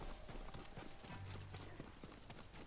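Horse hooves clip-clop in the video game Ghost of Tsushima, a run of close, rhythmic hoof strikes against a constant ambient game background.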